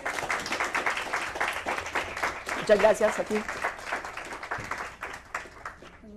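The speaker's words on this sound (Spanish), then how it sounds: "Un aplauso a Laura" An audience at a leadership seminar applauds after a speaker's talk. The clapping is moderate and uneven, with a voice speaking briefly over it as it thins out.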